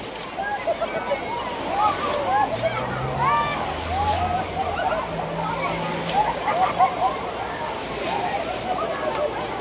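Churning water at a resort wave pool at Azure in San Fernando, Pampanga, with steady sloshing and splashing waves beneath excited voices and shouts of the crowd.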